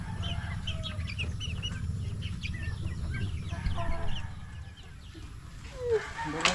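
Rhode Island chickens cluck and chatter steadily while eating ripe bananas, with a low rumble of background noise and faint voices underneath.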